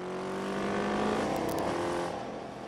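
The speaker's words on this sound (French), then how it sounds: "Sandra s'essaie maintenant à la moto." A motorcycle on a mountain road swells in engine noise, rising and then easing off as it moves past at moderate distance. The sound is fairly faint.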